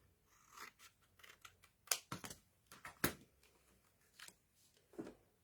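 Scissors trim paper for a scrapbook album spread, giving a series of short, crisp snips and rustles at an irregular pace, close and quiet, with no talk.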